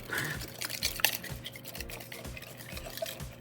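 A small whisk stirs pumpkin puree in a bowl, making a quiet, steady run of soft scraping strokes and light clinks against the sides, with no talk.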